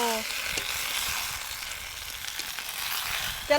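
Leafy greens sizzle as they sauté in a hot pan, giving a steady, loud frying hiss throughout, with occasional stirring and a faint voice in the background.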